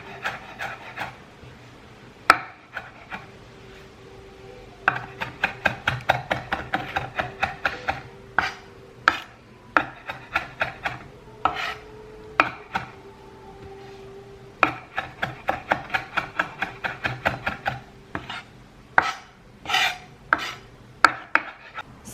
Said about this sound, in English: Cilantro's all chopped up here.